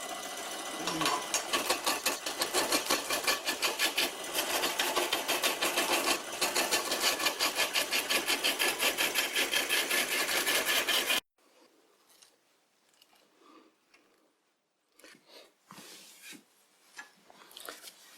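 A vintage bench lathe whirs loudly with a rapid, rhythmic scraping as a tool cuts into spinning bark-covered wood, then stops, leaving quieter handling noises and a voice speaking.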